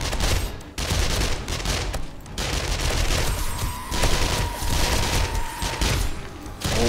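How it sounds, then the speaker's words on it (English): A sledge turret in 7 Days To Die pounds away with rapid, continuous heavy blows, a loud dense barrage that runs almost without a break for several seconds. "The sledge turret is doing some work."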